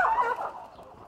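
Chickens in a rural South African village, where birds are sold into the informal trade, cluck and call close by in a brief burst that is loudest at the start and then trails off, with no talk.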